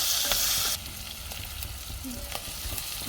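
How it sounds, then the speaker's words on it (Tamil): Onions sauté with asafoetida in a pan, a bright loud sizzle that drops suddenly in intensity after the first moment, then continues with scattered stirring scrapes and pops close by. "பெருங்காயம் சேர்த்து வதக்கலாம்."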